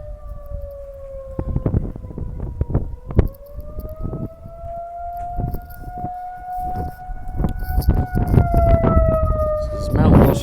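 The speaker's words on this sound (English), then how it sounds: "This is Mount Washington Volunteer Fire District's tornado siren. It's a Federal Signal 2001 PA." Federal Signal 2001 PA tornado siren sounding during a monthly test in Mount Washington, Kentucky, a sustained wailing tone that slowly rises and falls, heard from a distance with wind and nearby thumps and bumps.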